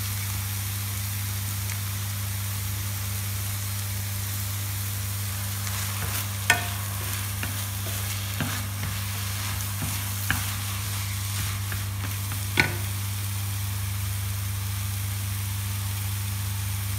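Instant noodles with egg stir-frying in a pan, a continuous sizzle over a low steady hum, with a handful of scattered scrapes and clicks from the spatula in the second half.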